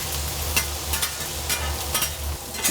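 Gopchang, split and cleaned beef intestines, stir-fried in a pan at a Korean restaurant, with a steady close sizzle and soft stirring clatter running throughout.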